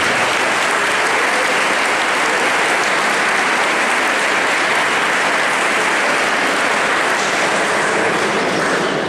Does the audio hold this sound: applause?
yes